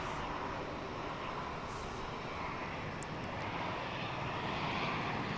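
A Boeing 737-800 airliner at DFW International Airport, its engines a steady, broad roar that holds loud and unbroken throughout, with no voices over it.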